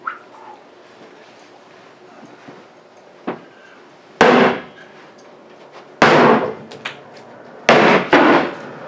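Three heavy, separate strikes land about two seconds apart, with a faint knock before them, like a hammer hitting wood in a room that is otherwise quiet.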